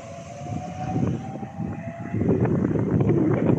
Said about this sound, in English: South Eastern Class 365 service arriving into Sevenoaks for possibly Ramsgate by Canterbury West